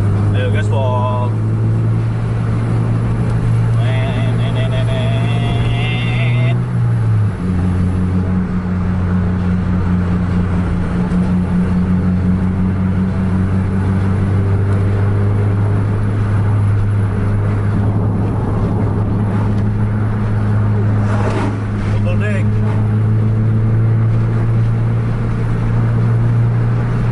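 A car engine held at full throttle, a steady loud drone that briefly dips then settles into a sustained higher pitch, close and continuous with voices faintly under it.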